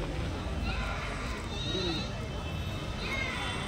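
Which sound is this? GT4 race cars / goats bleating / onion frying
goats bleating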